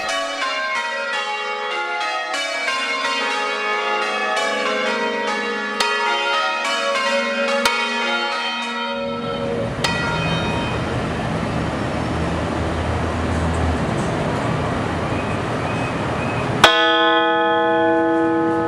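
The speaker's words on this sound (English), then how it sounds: "bell is one of the older, and certainly is the loudest of musical instruments" A large bell rings repeatedly with rich ringing overtones, then a rumbling, noisy passage follows before a bell strikes again near the end.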